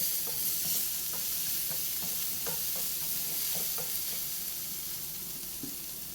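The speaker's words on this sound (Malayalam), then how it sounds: "ഈ വെളുത്തുള്ളിയുടെ പച്ചമണം മാറുന്ന വരെ നമുക്കൊന്ന് ഇളക്കി വഴറ്റിയെടുക്കാം" Crushed garlic paste stirred and sautéed in butter in a pan, a steady close sizzle with intermittent scraping stirs, for butter garlic bread.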